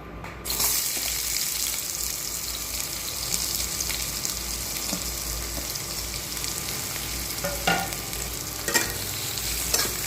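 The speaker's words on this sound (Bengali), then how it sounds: "তো দেখো তেলটা গরম হয়ে গেছে, এবার পেঁয়াজগুলো দিয়ে দেবো।" Chopped onions go into hot oil for a pasta dish with eggs, giving a steady sizzle and frying hiss with occasional clinks and scrapes of stirring, no voice present.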